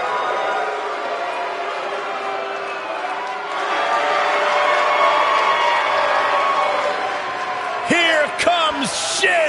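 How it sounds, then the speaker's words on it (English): An indoor crowd at an evening sports event cheers and roars in a broad, sustained wash with whoops, under close announcer talk and a few sharp squeaks near the end. "this crowd is ready to get this night started."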